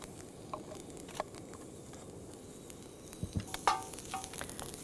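Wax moth larvae frying with garlic in a pan give a soft, steady sizzle with faint stirring scrapes and a few brief clinks toward the end.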